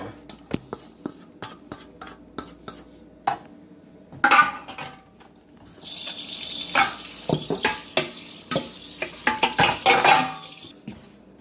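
Utensil scrapes and clinks sound against a pan as taco meat is stirred, with a burst of sizzling partway through and sharp metallic taps scattered across, close and fairly loud.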